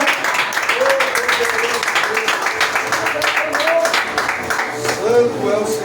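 A church congregation claps during a Saturday morning consecration service, a sustained, even applause with voices calling out over it throughout.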